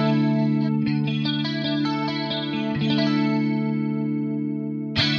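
An electric guitar plays through a BOSS 500 series pedal, with sustained chords and plucked notes coloured by bell-like overtones, chorus shimmer and mild distortion. It rings loud and close, with a final strum near the end.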